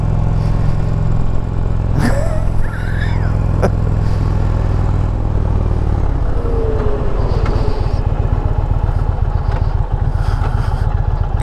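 A 2020 Indian Challenger motorcycle rides at speed, its engine giving a steady close rumble under constant wind buffeting, with brief shifts in pitch and a short exclamation early on.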